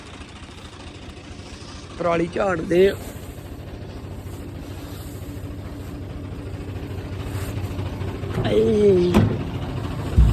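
A tractor fitted with a reaper runs in a harvested paddy field, a low, steady engine drone heard in the background while people talk briefly over it.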